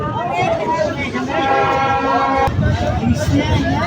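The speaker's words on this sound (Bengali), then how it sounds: "মিনিটের যাত্রা বিরতি দিয়ে আমরা এখন গ্যান্ডারিয়া রেল স্টেশন ছেড়ে যাচ্ছি।" A commuter train pulls out of Gandaria railway station, its horn sounding in sustained tones over rumbling rail noise, heard from on board with a voice talking over it.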